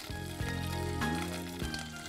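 Spices, dried red chillies, asafoetida, curry leaves and green chillies sizzle and crackle in hot oil for tempering, a steady close frying hiss with a faint tonal hum underneath and no voices.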